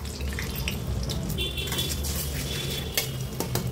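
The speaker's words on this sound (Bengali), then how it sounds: "তো প্রথমে আমি ডিম ভেজে নেব।" Three eggs fry in oil in a wok, a steady crackling sizzle under repeated scraping and clinking of a utensil against the pan, close and continuous.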